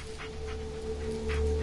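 A dog pants steadily in the horror video game Blair Witch, a soft breathy rhythm of quick pulses over a constant low game drone and hum, heard close and without talk.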